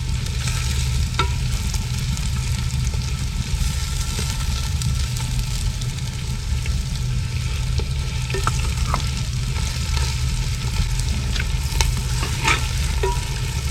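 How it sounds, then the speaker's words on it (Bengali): Garlic paste and onions fry in hot oil for a village-style duck curry, a steady close sizzle with scattered scraping stir clicks throughout, no voices. "এবার আমরা রসুন বাটাটা দিয়ে দিব পেঁয়াজের সঙ্গে, হালকা করে ফ্রাই করতে হবে।"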